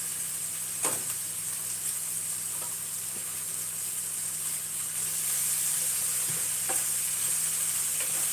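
Onions sizzle steadily in a pan as they caramelize alongside well-done burger patties, a constant close frying hiss with a few faint stirring scrapes and no talking.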